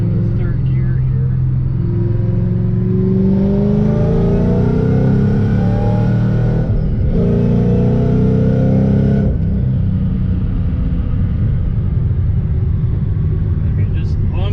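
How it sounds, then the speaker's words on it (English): A 2006 Saleen Extreme with a supercharger and long-tube headers revs hard in third gear, its roar climbing steadily in pitch, dipping briefly midway, then settling into a loud, sustained drone. "you get the awesome supercharger whir, and paired to the long tube headers"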